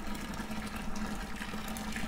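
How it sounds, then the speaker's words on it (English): Boiling water from a kettle pours steadily into a home brew beer mix, a continuous soft splashing gush heard up close at low volume. "Boil the kettle and pour it in."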